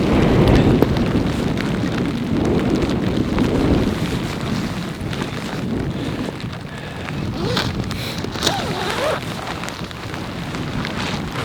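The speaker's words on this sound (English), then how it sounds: "It got really, really windy this morning." Strong wind buffets the microphone outdoors in Alaska during rain, a loud, continuous rough roar with gusts swelling and easing over about ten seconds, no voices.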